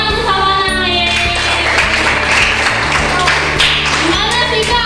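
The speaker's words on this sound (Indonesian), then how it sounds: "tepuk tangan untuk Savana." A class of children applauding in an Indonesian classroom, quick overlapping claps lasting several seconds, loud and close, mixed with children's voices and a cheer.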